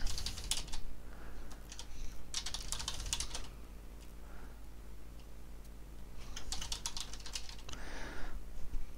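A username is typed on a computer keyboard in several quick bursts of close, crisp key clicks, with short gaps between them and no talking.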